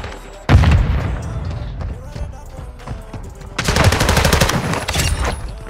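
A flashbang grenade goes off with a sharp loud burst in Call of Duty: Modern Warfare II, then steady automatic gunfire rattles close by, with rapid rhythmic shots and battlefield noise.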